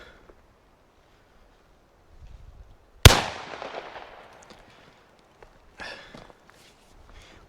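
A single sharp, loud shot from a Bond Arms Blackjack handgun cracks out at close range and decays quickly, with quiet rustling and shuffling before and after it.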